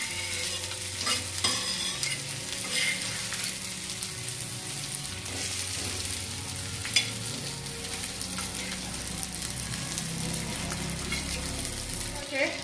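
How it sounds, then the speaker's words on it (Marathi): Surmai fish pieces with a semolina coating fry in oil for a Maharashtrian fish fry, giving a loud, continuous close-up sizzle and crackle with occasional light clinks. "बघा भाजून द्यायचे यांना चांगलं मस्त."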